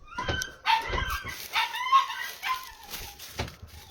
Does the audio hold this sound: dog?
yes